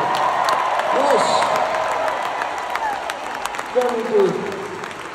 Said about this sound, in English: please give a big round of applause for everyone working here tonight and making this show possible.